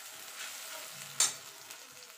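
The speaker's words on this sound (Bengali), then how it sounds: "মিনিট খানিক আমি মশলাটাকে একটুখানি কষিয়ে নিয়েছি" Ground ginger, green chili and tomato masala stir-fried in a pan for a cauliflower dish, giving a low steady sizzle with one sharp scrape or spatter burst midway, no voices.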